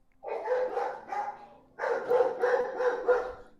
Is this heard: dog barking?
yes